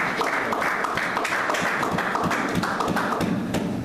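A church congregation claps hard and fast in many overlapping sharp hand slaps, loud and close, continuing steadily with a faint voice or two underneath.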